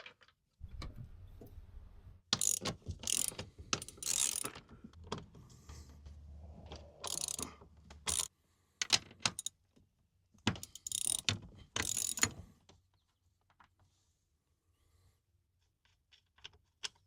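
Ratchet with a 5/8 spark plug socket working on a minivan seat bolt, bursts of rapid clicking with pauses between strokes, close up and alone.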